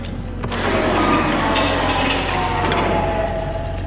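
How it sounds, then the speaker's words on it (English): A train in the Half-Life-inspired indie game Kvark rumbles steadily with a loud, dense mechanical roar and a low constant drone, heard alone with no talk. "That's my train."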